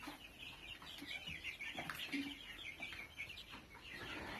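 Soft, rapid clucking and peeping from young black (karinkozhi) chicks nearby as one is caught, irregular and fairly faint, with some rustling and low background noise.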